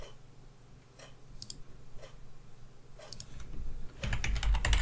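A password typed on a computer keyboard: a few sparse, quiet key clicks, then a quick dense burst of keystrokes at the end, close by with no talking.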